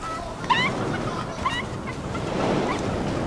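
Chickens in the video game Fortnite give a few short, clucking calls around the half-second and one-and-a-half-second marks, set against a steady ambient background of wind and surf.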